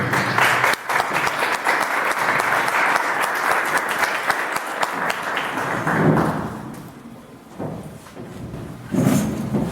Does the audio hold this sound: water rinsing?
no